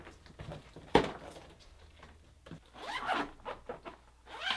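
A close zipper being pulled open on the packaging bag of an OPENROAD PeakRoof LT rooftop tent, with a sharp thump, then several quick rasping zip strokes and rustling handling.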